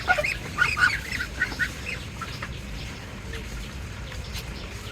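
Geese honk repeatedly at close range, a burst of loud overlapping calls early on that thins to scattered honks over a steady background of low rumble.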